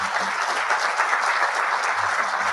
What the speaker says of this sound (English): So again, a great round of applause for them.